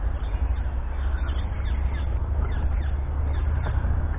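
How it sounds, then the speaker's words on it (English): Crows cawing repeatedly over a steady outdoor rumble in woodland, the calls moderately loud against a constant noisy background. "Now I can hear birds."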